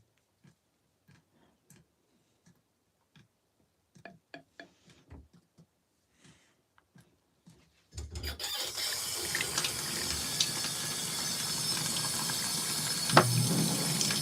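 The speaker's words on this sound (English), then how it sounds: "I guess it's rinsing out the suds." An LG ThinQ washing machine starts a rinse partway through. Quiet ticks and clicks come first, then water rushes in suddenly and keeps up a steady loud running fill, with one brief thump near the end.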